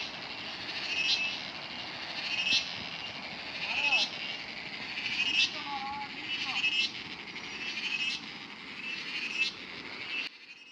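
Forest ambience on a road to a waterfall in Kerala, with repeated high insect-like chirps in regular bursts over a steady wash of background noise. A few faint calls are heard, and the sound drops off sharply near the end.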